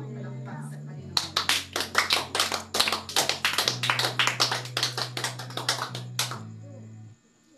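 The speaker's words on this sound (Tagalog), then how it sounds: "Palakpak sa Panginoon." A church congregation claps for the Lord in a lively steady rhythm, many hands together over a sustained organ or keyboard chord, ending in a final burst as the music holds.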